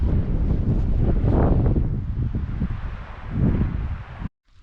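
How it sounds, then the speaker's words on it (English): Strong wind gusts buffet the microphone outdoors with low rumbling roars that swell and ease, ending in a sudden cutoff. "Windy."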